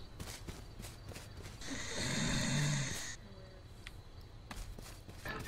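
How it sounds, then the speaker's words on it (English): A single drawn-out snore swells and fades near the mic, with soft shuffling and faint background noise around it. "Are you snoring?"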